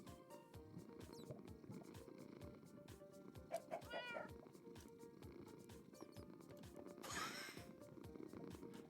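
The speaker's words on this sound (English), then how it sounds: "Is that chicken purring?" A cat purrs in a video game, a steady, soft, rhythmic rumble with a few brief brighter chirps over a continuous background.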